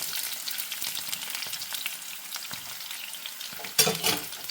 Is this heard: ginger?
yes